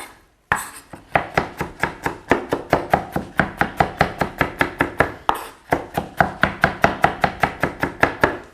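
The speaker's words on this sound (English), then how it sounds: "Just chop the roots off." A knife chops the roots off vegetables on a cutting board in a steady, rapid rhythm of sharp knocks, close and loud, with one short pause, no voices.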